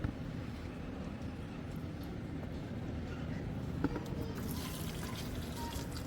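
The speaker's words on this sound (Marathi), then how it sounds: "पहिला घालते फ्रेंड्स झाडांना पाणी." Water poured onto garden plants makes a steady, continuous trickle and splash that stays level throughout, with faint background noise.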